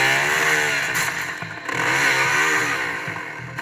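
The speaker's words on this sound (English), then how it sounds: "It's a motorcycle!" A motorcycle engine in the video game Project 9 revs up and down with rising and falling pitch, loud and close, with a short dip in the middle.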